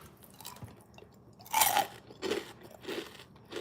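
Homemade croutons toasted in olive oil crunch loudly between the teeth in a few distinct bites, followed by shorter chewing crunches at a steady pace.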